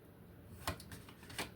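Cards from an Angel Guide oracle deck being shuffled indoors, a few short close riffling bursts separated by quiet pauses, faint and near.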